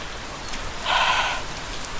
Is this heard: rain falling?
yes